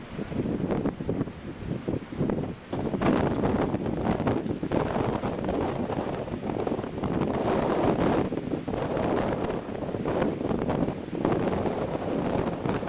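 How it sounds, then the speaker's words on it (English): Strong gusting wind of about 25 mph roars steadily around a Lynx vertical axis wind turbine outdoors, loud broadband buffeting that swells and dips without pause, with no voices. "25 miles per hour wind."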